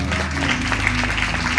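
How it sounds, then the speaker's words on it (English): Church congregation clapping in praise during a licensing and elevation service, a dense continuous patter of hands at moderate loudness with a low musical hum underneath. "Can we give a hand clap of praise?"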